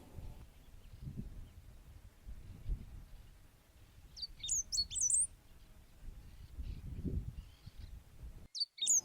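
Lesser yellowlegs calling at a shallow shrinking pond, a few short clear whistled notes in a brief cluster, then another burst at the very end, moderately distant over low rumbling wind and background noise.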